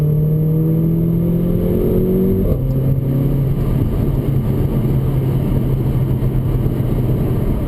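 A Mercedes GLA 45 AMG hatchback's turbo engine pulls hard under acceleration, rising in pitch, dropping briefly at a gear change, then climbing again, loud and close from inside the car on a fall drive.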